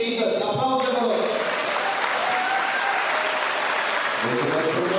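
Audience applause at an honorary ceremony for a football academy, steady dense clapping from a crowd filling the whole stretch, with a voice speaking over it at the start and end.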